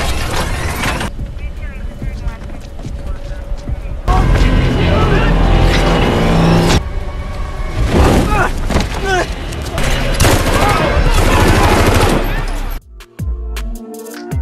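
Gunfire from a police robot shooting a criminal in the film Code 8: loud bursts of shots amid a dense, busy movie soundtrack with abrupt cuts.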